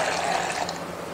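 Water is poured into a jug for a weight-loss juice, a short steady splashing pour that is fairly loud and close, with no talking.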